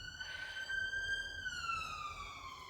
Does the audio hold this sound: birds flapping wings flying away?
no